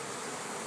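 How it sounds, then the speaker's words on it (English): Bees fanning make a dense, steady hum that fills the moment, soft and even with no other sounds. "Bees are fanning."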